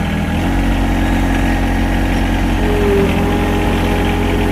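A Yanmar SA324 compact tractor idles while its loader lifts heavy logs, a steady loud diesel drone with a low throbbing hum and faint mechanical whine, continuous and close, no talk.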